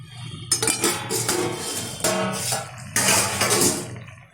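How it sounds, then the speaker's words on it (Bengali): A metal lid lifted off a pot of thin fish curry with potatoes and elephant-foot yam stems, simmered on low heat; clattering metallic clinks and scraping ring out in several loud bursts, close by, with no talk. "20 মিনিট বাদে ঢাকনাটা তুলে দিচ্ছি।"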